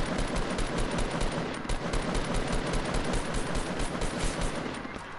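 Dense, rapid gunfire fills a Fortnite firefight in a loud, continuous burst with sharp repeated cracks and no gaps, and no voices.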